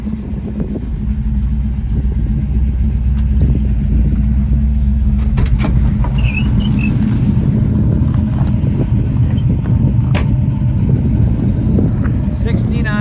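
A 1969 Chevrolet Chevelle SS with a numbers-matching 396 V8 and 4-speed manual, underway on a road, giving a steady deep engine rumble throughout, with voices and occasional light clicks over the drone.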